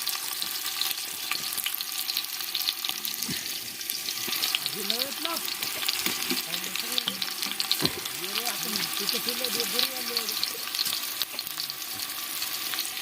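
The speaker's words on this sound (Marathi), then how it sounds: "आवाज येते बरं पहा कांदा भाजून चालू जोरदार" Onions fry for a village-style biryani cooked outdoors with friends, making a strong continuous sizzle and crackle, with voices audible faintly in the background partway through.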